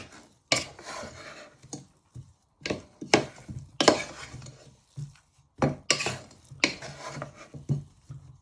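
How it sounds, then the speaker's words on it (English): Potatoes tossed in a pan with cooked onions, chillies, garlic and ginger, giving repeated close scraping and clattering bursts at an uneven rhythm with short pauses between. "you toss them in your potatoes"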